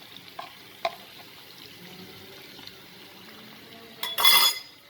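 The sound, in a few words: sardine fish frying in coconut oil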